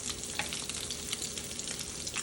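Crab cakes sizzle and crackle steadily in a hot frying pan, with small pops scattered through, close by and with no talking.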